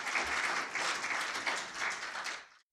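Church congregation applauding, a full, steady round of clapping from many hands that carries on evenly before cutting off abruptly at the end.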